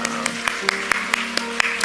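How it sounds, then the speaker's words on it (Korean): A Sunday worship congregation claps in welcome, a brief run of rhythmic, evenly spaced claps over a sustained musical tone, close and moderately loud. "큰 박수로 환영해 드리겠습니다"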